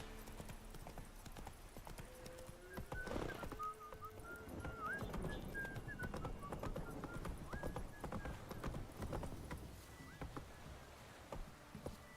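Galloping horse in a video game set in a swamp, hooves clip-clopping steadily for the whole stretch with a brief whinny and game music tones, fairly close and even in level.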